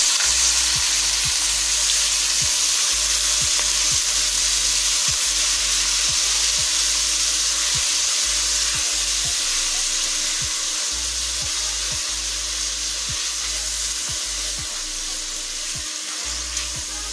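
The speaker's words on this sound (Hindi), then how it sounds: "ये गोश्त को मैंने अच्छे से फ्राई कर लिया।" Beef gosht for palak gosht frying in a pan, a loud, constant sizzle with regular soft knocks of stirring, close up and without any voice.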